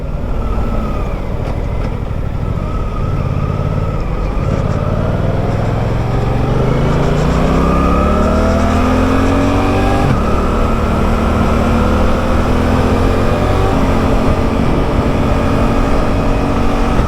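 A Suzuki GSX-8R motorcycle riding on the motorway, its loud engine note climbing steadily through the gears under strong rushing wind noise, continuous and close throughout.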